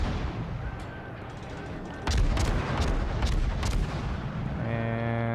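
Warship guns firing in World of Warships, a rolling series of sharp booms from a salvo around the two-second mark over constant battle rumble, followed by a tonal engine-like drone at the end.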